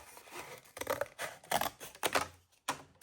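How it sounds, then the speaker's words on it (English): Scissors cutting apart a piece of shoe box paper, several crisp snipping strokes in quick irregular bursts, close and quiet. "Let's cut this apart because this is way too wide for a belly band."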